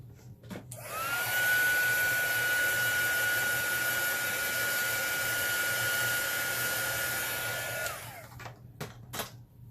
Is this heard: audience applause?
no